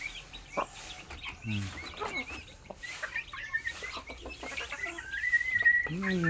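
Chickens cluck and squawk repeatedly at close range, with a rising crowing call near the end, while a person talks over them.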